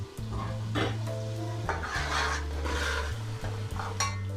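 Spoon scraping and clinking against a pot while green chilies are stirred into a masala gravy for Pakistani beef paya, a series of close metallic scrapes and knocks over a faint simmer, with no talk.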